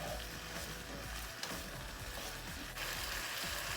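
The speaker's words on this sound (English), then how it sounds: "And 1 teaspoon of minced ginger. We'll stir that in there good." Minced ginger stirred into pepper steak frying in a pan for Chinese pepper steak, a steady close sizzle with faint scraping of the utensil running through the whole stretch.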